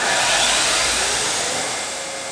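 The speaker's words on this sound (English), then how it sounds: "So we'll grind off the heads so we can push the pins back through." A grinding wheel grinds the pin heads off a custom Buck knife with mammoth tooth scales. It makes a loud, steady abrasive whine that fades slightly over a couple of seconds.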